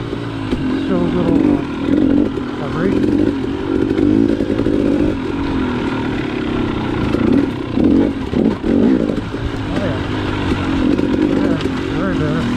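A 250 TPI two-stroke motorcycle engine out on a ride, a raspy buzzing drone that rises and falls with the throttle, with people talking over it throughout.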